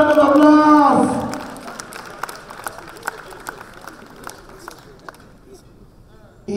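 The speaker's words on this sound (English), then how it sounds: "Can we give him a huge round of applause?" An audience at an evening address honoring Senator Dr. Chris Ngige claps in a short burst of loud applause that quickly fades into scattered claps and murmuring chatter.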